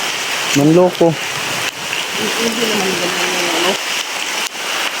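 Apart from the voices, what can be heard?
heavy rain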